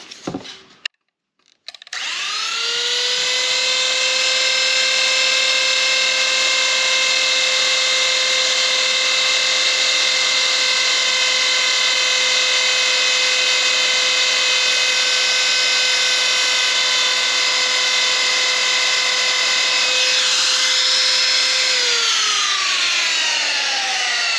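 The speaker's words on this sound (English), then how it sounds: "I need to get one of them router gauges so we can gauge how deep we're cutting" Router cutting into a wooden charcuterie board: after a brief clatter it spins up to a loud, steady high whine with a strong tonal hum, holding for about twenty seconds before winding down.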